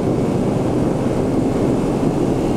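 A TVS Raider 125cc motorcycle engine pulling hard in third gear, a steady, loud droning hum with heavy wind rush and no breaks.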